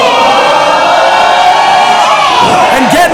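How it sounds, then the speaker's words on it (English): Wrestling crowd at a Primal Pro Wrestling show roars and cheers steadily, a loud dense wall of shouting and whoops that fills the whole moment without letup. "The crowd is hot."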